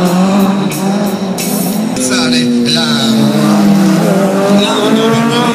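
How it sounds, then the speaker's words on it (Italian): Drift car at an Italian motor show spinning out, a loud sustained tire squeal with engine roar throughout, alongside a commentator talking over the action. "Vediamo se il drift ne approfitterà di poter magari niente da fare, è andato in testa a coda"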